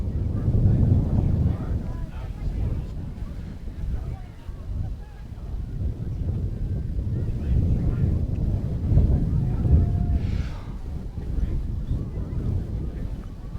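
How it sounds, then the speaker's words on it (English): Wind buffets the microphone at a 2019 high school senior night football game, a steady low rumbling roar that swells and eases throughout. "I think that wind is picked up."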